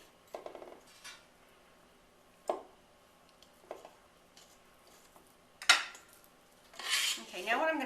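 Red velvet cookie dough stirred in a mixing bowl, a few separate scraping and clinking strokes of a utensil against the bowl, close and fairly quiet, ending in a longer rougher scrape.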